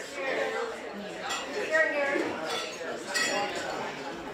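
Glasses chinking together in a group toast aboard a cruise-style Sunday sea gathering, a few bright clinks under ongoing talk and crowd chatter.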